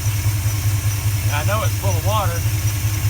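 Car engine fitted with a 4-barrel carburetor on a 2-barrel intake, suspected blown head gasket, idling with a steady low lumpy throb, close by, while someone talks over it.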